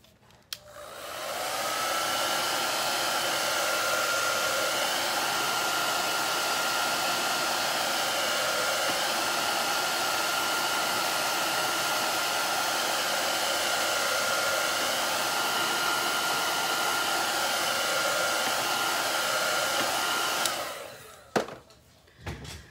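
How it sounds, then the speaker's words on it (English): A blow dryer runs steadily for about twenty seconds, drying acrylic paint on a spring carrot painting, a loud constant whoosh with a faint whine, switched on and off with small handling clicks at the end. "I'm gonna use the blow dryer."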